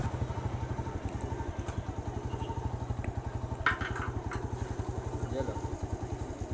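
A motorcycle engine idles steadily at a fuel stop during a solo off-road ride from Miachar, its close, even throbbing pulse running continuously with a brief clatter partway through.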